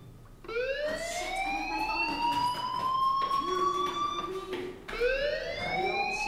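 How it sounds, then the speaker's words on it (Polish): In the video game Life Is Strange, a school fire alarm wails in long rising sweeps, loud and steady, restarting once near the end. "do you hear that fire alarm? That means you should be outside."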